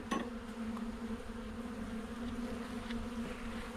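Agitated honeybees in an opened hive make a steady, droning buzz that stays close and even throughout, with a faint clink near the start.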